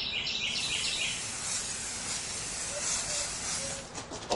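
A continuous hissing spray of nanodiamond paint-protection product onto a car goes on for several seconds, close and fairly steady, with a faint high chirp in the background.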